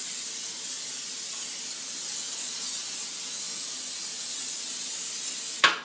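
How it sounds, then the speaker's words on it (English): Cooking spray hisses steadily onto a cake pan in one long continuous burst that ends with a short sharp puff, close and fairly loud with no voices. "I like to spray it down really, really good"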